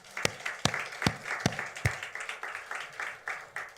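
Church congregation at an anniversary worship service clapping in scattered, loose bursts, a handful of sharp claps standing out over softer, uneven applause at moderate distance.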